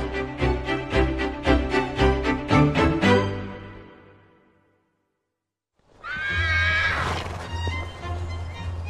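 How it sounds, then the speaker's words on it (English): One of the Queen's racehorses at Sandringham estate in Norfolk, out for morning exercise in mid-January, lets out a loud, close, pulsing whinny that fades away, then a rough snorting neigh after a short silence. "3 of the Queen's 35 active racehorses are having their morning exercise"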